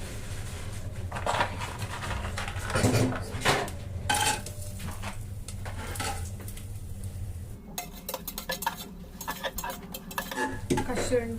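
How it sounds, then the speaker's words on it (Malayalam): Cashew nuts go into hot ghee with cinnamon, cloves and cardamom in a cooking pan, and a metal spoon repeatedly scrapes and clatters against the pan while a faint sizzle runs underneath. "കശുവണ്ടി ഇട്ട് കൊടുക്കാം."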